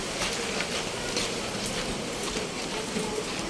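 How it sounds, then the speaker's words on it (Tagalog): Heavy, unrelenting rain pouring down during a flood while a delivery rider heads out, a constant broadband hiss of water with no voices. "Grabing ulan na to. Ayaw tumigil."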